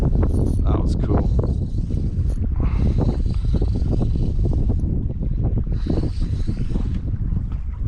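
Nasty, strong wind blows across shallow fishing flats, battering the microphone with a constant loud rumble. Brief voices break in now and then over the gusts.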